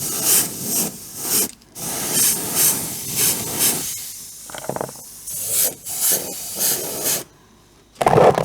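Small airbrush compressor for scale-model painting, running in repeated short hissing, chugging bursts with pauses between them, close and fairly loud, no talk.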